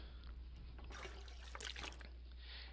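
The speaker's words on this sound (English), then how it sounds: "let's take the water from the toilet" Water being collected from a toilet in the video game The Long Dark, a brief splashing and trickling burst of liquid heard faintly over a low steady hum, no talk.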